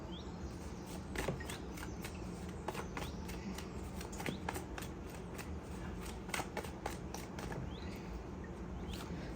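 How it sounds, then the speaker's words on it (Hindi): Tarot cards being shuffled during a love reading, a steady run of soft papery riffles and flicks, quiet and close, with no talking. "अच्छे से शफल करते हैं पहले से।"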